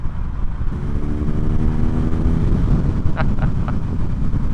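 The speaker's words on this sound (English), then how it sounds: "I'm being blasted with the wind, but because it's unbroken wind, it's really not too loud." Steady, loud wind buffeting at a rider's helmet on a moving 2023 BMW R nineT 100 Years Edition motorcycle, a broad continuous roar with the engine's drone underneath and a few brief higher chirps near the end.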